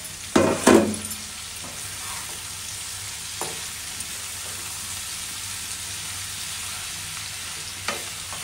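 Bitter gourd (karela) stir-fried in a pan, with a loud clatter of stirring at the start, then a steady, even sizzle and a few soft scrapes of the spoon, no voices.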